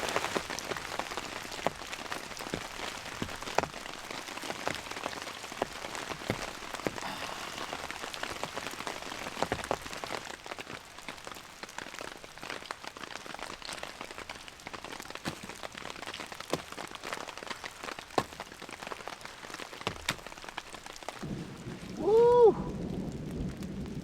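Heavy rain pounds steadily on a tent during a storm, a dense continuous patter, with a faint roll of thunder near the end.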